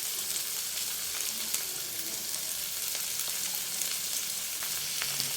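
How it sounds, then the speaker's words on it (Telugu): Onions and tomatoes fry in sesame oil in a pan, giving a steady, fairly quiet sizzle with light crackles throughout and no one speaking. "నువ్వుల నూనె వేసాను వెరైటీగా ఉల్లికాయలు వేస్తాను టమాటాలు"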